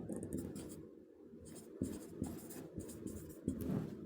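Writing on a board during a lesson on the future perfect tense, with scratchy marker or chalk strokes in short bursts and sharp taps, partly under a teacher's voice.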